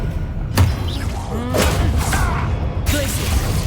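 An Expelliarmus spell is cast during combat in the video game Hogwarts Legacy, heard as a few sharp thuds and whooshing magical bursts spaced across the moment, loud and close, with voices mixed in.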